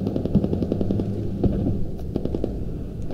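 Rapid bursts of automatic gunfire from an enemy vehicle in a combat video game, sounding as a dense, loud rattle over a low rumbling engine drone, continuous across the whole stretch.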